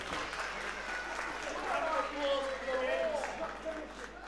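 A crowd at a wrestling show in Birkenhead claps and cheers steadily as a broad, sustained wash of applause, swelling slightly midway, with a few voices calling out over it.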